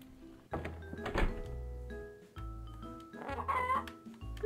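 Chicken clucking in the video game Yono and the Celestial Elephant, a few short clucks and squawks mixed with soft thunks and low game sounds, fairly quiet and alone without talk.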